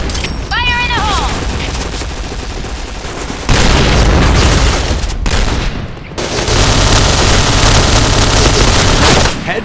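Gunfire and a grenade blast in the video game Point Blank: loud, continuous bursts of rapid shots and booms, dense and close, with a short electronic tone near the start.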